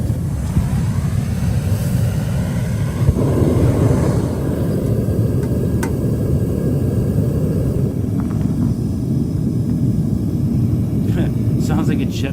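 Three gas-fired furnaces melting metal at a house roar loudly and steadily for the whole stretch, a dense, unbroken rushing blast like a jet engine.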